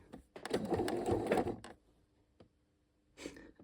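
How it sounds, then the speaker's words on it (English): Sewing machine backstitching the arm side seam of a lined waistcoat, a short whirring burst followed by a quiet pause with faint taps, then a brief restart near the end. "I'm just going to start with my arm side seam. I'm going to backstitch."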